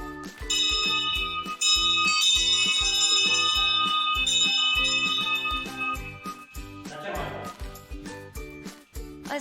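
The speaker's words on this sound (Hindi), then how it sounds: "और सभी मंदिर की घंटी बजाते हुए बाहर जाएंगे।" Temple bells ring repeatedly and close by as people leave a hilltop temple near Alwar. Bright metallic strikes overlap with lingering tones in a busy, irregular rhythm, with faint background voices.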